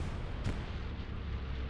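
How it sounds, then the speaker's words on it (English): An Allied bombing run in a World War II video game produces a single muffled explosion early on, followed by a dull, low rumble that fades softly into the distant background. "Ooh! Allied bombing run. Right on top of that P4."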